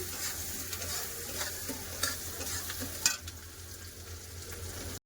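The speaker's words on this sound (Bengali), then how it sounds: "কেটে রাখা পেঁয়াজ আলু দিয়ে পেঁয়াজ ভালো করে লাল করে ভেজে নেব" Onions and potatoes fry in a pan with a steady close sizzle, while a spatula scrapes and stirs at intervals and one sharper clink comes near the three-second mark.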